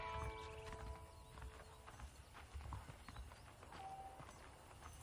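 Horse hooves clip-clop on a dusty ranch in the Red Dead Redemption game, a quiet uneven trot of hoofbeats with faint background tones and a brief whinny-like sound.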